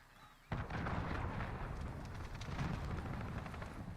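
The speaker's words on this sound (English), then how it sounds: "Allied cruise missile away." A cruise missile launch in Call of Duty: Modern Warfare bursts in suddenly after a brief quiet moment, then sustains a loud, roaring rumble with crackling blasts, like heavy artillery, for several seconds.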